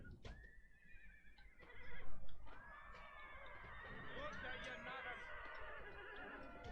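Cavalry horses neigh and whinny amid a Napoleonic battle in the Napoleon: Total War game, with hoof clatter and battle noise in the background and a voice talking over it.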